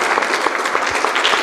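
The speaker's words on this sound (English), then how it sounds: "I'll give him a round of applause to Dr. Sungenis." Audience applause after a talk presentation in Dallas, Texas: brief, steady clapping from a modest crowd in a hall.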